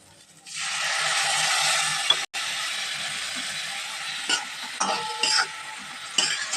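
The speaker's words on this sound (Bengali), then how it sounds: "আবারও ভালো করে মিশিয়ে নিচ্ছি" A spoon stirs potatoes, pointed gourd and Gobindobhog rice in a pan, giving a close, continuous scraping and sizzling with a few sharper clinks of metal.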